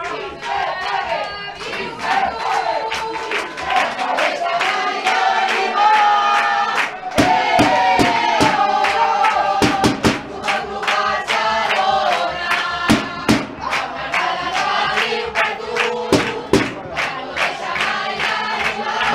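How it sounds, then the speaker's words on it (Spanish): Rayo Vallecano supporters cheering in the stands during a youth football semifinal against FC Barcelona in the Tres Cantos Cup, a loud continuous crowd roar with chanting, scattered clapping and sharp bursts throughout. "Aplaude la afición del Rayo Vallecano."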